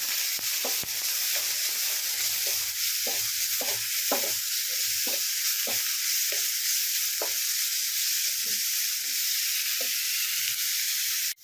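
Ingredients with curry leaves sautéing in a pan, a strong steady hiss of frying broken by a run of quick scraping and tapping strokes from a spatula, close by and alone.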